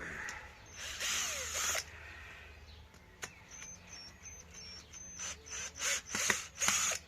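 A power drill whirs in several bursts while drilling out screws on a Honda CD175 motorcycle engine, a longer run early on, then a series of short pulses near the end, close and fairly loud.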